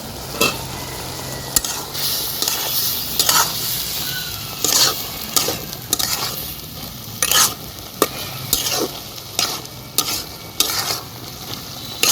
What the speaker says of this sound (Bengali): আর একটু ভাজলে হয়ে যাবে